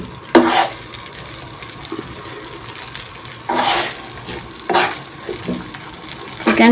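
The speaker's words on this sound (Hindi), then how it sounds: "चिकन को 2 से 3 मिनट तक फ्राई करेंगे ऑयल में" Chicken for samosa filling frying in oil, a soft continuous sizzle broken by several sharp scraping bursts as it is stirred in the pan.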